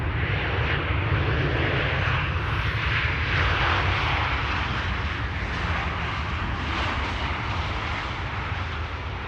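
A KLM jet arriving at Amsterdam Schiphol from Berlin on a misty Sunday morning roars steadily and loudly, its broad engine rumble and rushing wash holding throughout with no talk.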